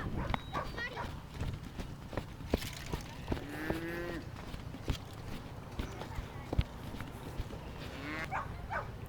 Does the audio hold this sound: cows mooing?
yes